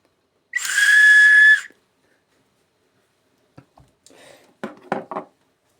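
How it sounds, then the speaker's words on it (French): One shrill whistle blast lasting about a second, loud and close, followed by silence and then a few soft clicks and handling sounds. "je vais vous présenter un sifflet"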